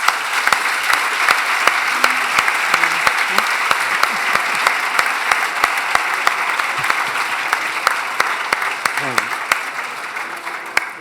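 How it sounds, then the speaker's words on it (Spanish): Audience at a conference session applauds the discussion groups, a sustained even round of clapping with a few distinct claps near the mic, faint voices murmuring underneath. "Les damos un aplauso a ellos,"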